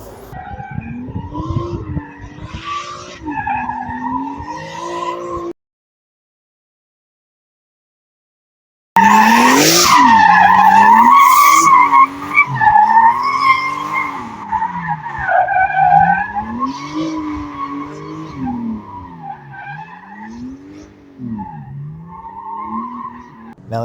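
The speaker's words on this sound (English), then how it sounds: "my dude Matt Vaughn slinging that 323 around down in Salem." A Mazda 323 drifts at a track in Salem, its tires squealing in long wavering howls over engine roar, cutting out briefly before returning louder and close for sustained slides.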